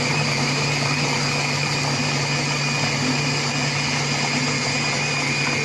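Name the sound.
Compact Cook Pro food processor chopping pomelo jam at speed 6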